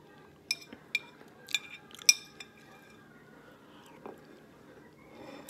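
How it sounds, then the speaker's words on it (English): A spoon clinks sharply against a plate several times during a mukbang meal of fire noodles in beef broth with cheese, close and distinct, with faint eating sounds between the hits. "You guys probably don't like that noise of the spoon hitting the plate."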